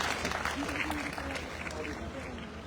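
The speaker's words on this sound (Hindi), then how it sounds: "उनको लिए भी मैं आप सभी से विनती करता हूँ कि एक बार जोरदार ताली हो जाए।" A crowd at a blood donation camp held in memory of a fallen army major claps in a dense burst of applause, loud at first and gradually tapering.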